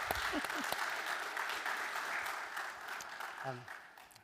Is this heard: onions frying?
no